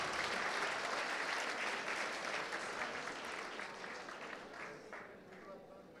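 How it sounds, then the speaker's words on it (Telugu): Audience at a CR Reddy College of Engineering event in Eluru claps during a memento presentation, a dense round of applause that starts full and gradually fades toward the end. "చప్పట్లు కొట్టండి గట్టిగా."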